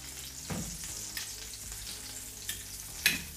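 Meat fries in butter with thyme in a pan, a soft, steady sizzle running throughout, punctuated by a few sharper pops and spatters, one louder near the end, with no talking.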